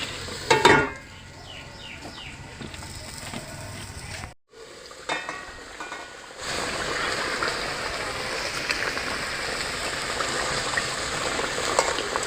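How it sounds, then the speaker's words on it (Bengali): Hilsa fish curry with yogurt being stirred in a pan, cooked in rural Bengali style, gives soft scraping stirs early on, then a steady close sizzle and bubbling simmer that runs on alone without talk. "আমি এবার মাছটাকে একটু নাড়া দিয়ে ঢাকা দিয়ে দেব।"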